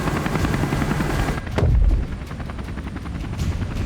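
A helicopter flies nearby with a steady loud rotor and engine drone, and a single deep thud lands partway through before the drone carries on; no one speaks.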